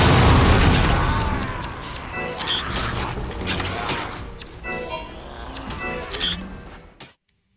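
A grenade goes off in a video game played on a One Gx Pro handheld: a heavy boom that fades out, followed by scattered bursts, clatter and mechanical game effects, all fairly loud, ending in an abrupt cut to silence.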